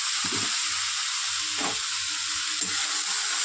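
Turmeric sizzling in hot oil for semolina upma: a steady close frying hiss with a few soft scrapes of stirring, no voices.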